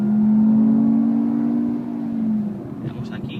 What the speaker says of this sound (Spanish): Ahora suena como un coche, un Clio de la